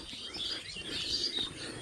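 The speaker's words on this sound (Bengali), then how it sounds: "এই যে এখন পাখির আওয়াজ শুধু শুনতে থাকুন" Small birds chirp and tweet in a quiet village, with thin high calls scattered over a soft, steady outdoor background and faint insect-like hiss.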